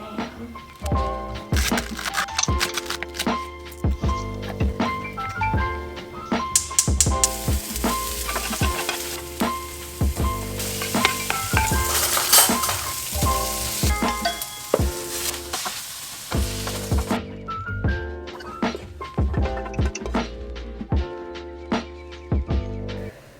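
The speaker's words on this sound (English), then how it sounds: "I'm gonna make kimchi fried rice." Kimchi fried rice with spam frying and being stirred in a pan, with a steady sizzle under repeated scraping and clattering of a utensil, loud and close throughout, with no talk.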